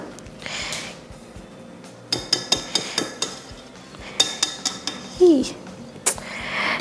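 Blueberry muffin batter is stirred in a bowl with a utensil, producing a run of sharp, evenly spaced clinks and taps against the side, moderately loud and close, with no talking.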